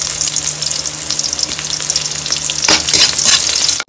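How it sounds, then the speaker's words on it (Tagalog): Garlic and onion sauté in hot cooking oil with a loud, close, continuous frying hiss that swells into bursts of crackle near the end before cutting off abruptly; no one speaks. "Ngayon magigisa na tayo mga dudes. Lalagyan na tayo ng mantika."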